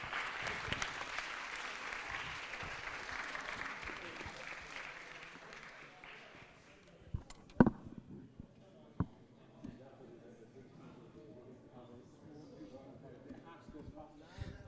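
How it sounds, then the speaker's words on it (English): An audience at an engineering design challenge final applauds the three teams, a full round of clapping that fades out after about six seconds, followed by a few scattered claps, thumps and quiet talk. "can we give a round of applause for the 3 teams"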